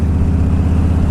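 Harley-Davidson Softail Deuce motorcycle engine with the choke pulled, running loud and close as a steady low rumble with a throbbing idle pulse and no voices over it.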